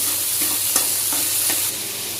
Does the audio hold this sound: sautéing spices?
yes